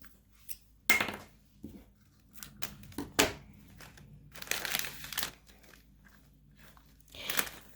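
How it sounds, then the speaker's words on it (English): Scissors snip through gift ribbon for a stamped gift topper, making a few sharp, close cuts separated by quiet pauses, with some crinkling of paper and ribbon between them. "let me go ahead and snip"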